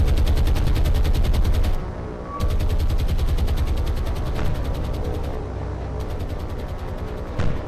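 Aircraft machine guns strafe a ship in the War on the Sea naval combat game, loud sustained rapid-fire bursts rattling continuously with heavy low booms, a brief lull near two seconds, then firing resumes.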